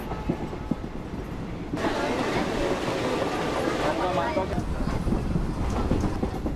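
Konkan Railway train travelling, heard from on board as a loud continuous rumble and clatter of wheels on track that swells after a quieter opening, with voices faintly mixed in.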